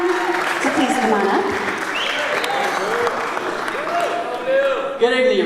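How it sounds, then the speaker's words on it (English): Wedding guests clapping, a dense sustained round of applause from a crowd indoors, steady and loud throughout with voices and cheers mixed in. "Big round of applause for Devin, ladies and gentlemen."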